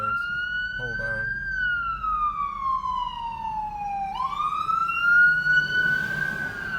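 A loud ambulance siren wails nearby, its tone slowly sliding down then sweeping back up, with traffic rumble and brief talk underneath.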